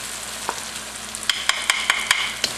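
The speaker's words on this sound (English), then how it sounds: "I'm going to add in my garlic." Garlic sizzling in a pan with browned, softened onions for chicken jalfrezi, a steady close frying hiss broken by several sharp scraping stirs of a utensil against the pan.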